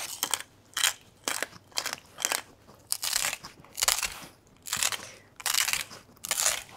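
Hard salt being ground for seasoning in a kitchen, a steady run of coarse crunching bursts about every half second, close and fairly loud, with no voices.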